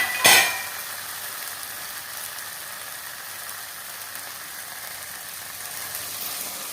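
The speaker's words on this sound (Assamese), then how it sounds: "এই গৰম পানী মই তাত অকণমান ঢালি দিম" Hot water hits a sizzling pan of fish curry with a brief loud burst, then settles into a steady, fairly loud hiss and bubbling that carries on alone.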